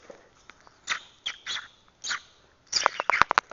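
Pet budgie and cockatiel chirping indoors: short, bright, close chirps come in scattered bursts, quiet between calls, then a quicker cluster of sharp tweets toward the end.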